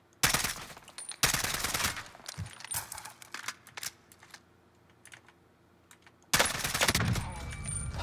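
Close, loud bursts of automatic rifle fire from the Warzone video game, with an M4A1 among the weapons, come in rapid rattling volleys. Shorter scattered shots fill the gaps, and a final long burst closes the stretch.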